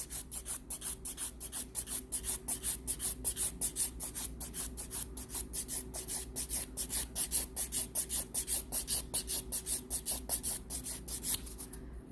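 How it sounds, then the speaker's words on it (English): Acrylic on a sculpture is filed in round movements, giving a quiet, steady rhythm of rapid rasping strokes repeated evenly throughout, heard alone and close. "again, I'm just filing with round movements."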